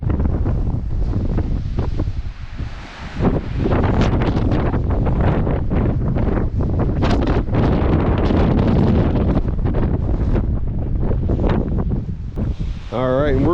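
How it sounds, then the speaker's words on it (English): Strong, steady wind roars across an exposed granite summit of Estes Cone in Rocky Mountain National Park, buffeting the microphone in constant loud gusts with no letup. "Still pretty windy though, pretty chilly."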